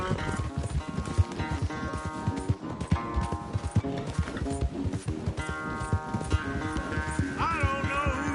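Horse hooves galloping in a video game race, a fast steady clip-clop rhythm running throughout, loud and close, mixed with background music.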